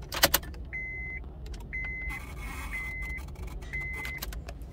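A 2003-2007 Honda Accord with a faulty ignition switch makes a thin, wavering whine in four short repeated bursts over steady low car rumble, with a jangle of keys at the start.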